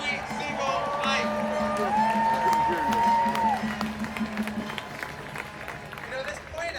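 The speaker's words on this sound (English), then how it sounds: "Let's give them a round of applause, the people who've been out here protesting every single night." Crowd applause and cheering at a nighttime protest rally by the White House, a steady wash of clapping with voices and shouts mixed through it, fairly close and sustained.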